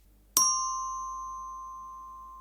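A single bell chime rings out clearly in a children's story of the three little pigs, a sharp bright strike followed by a long, pure ringing decay that fades slowly over two seconds.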